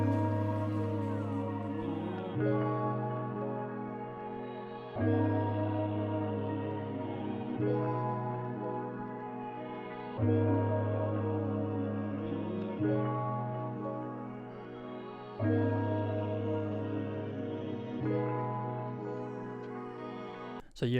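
A looping R&B/dancehall beat intro texture built in FL Studio from a halftime sample, dense sustained chordal layers with a bass pulse, restarting in even sections roughly every two and a half seconds, steady and fairly loud with no voices.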